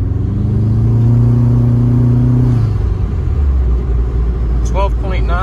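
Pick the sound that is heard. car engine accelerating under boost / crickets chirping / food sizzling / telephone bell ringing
car engine accelerating under boost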